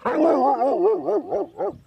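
A seven-month-old Huntaway pup lets out a wavering, howling bark that rises and falls in pitch, followed by a few shorter yelps, loud and close with no talk.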